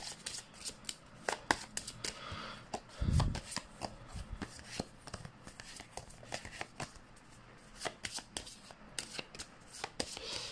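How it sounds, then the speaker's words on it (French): A deck of playing cards being shuffled during a tabletop card game, with riffling bursts and rubbing card sounds repeating close up, a brief louder thump near the start and no talking. "on va mélanger les cartes"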